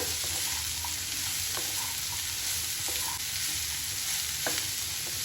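Beetroot sautéing in hot oil for beetroot poriyal while being stirred, a loud, continuous sizzle with intermittent scraping strokes of a spoon against the pan, close and without speech.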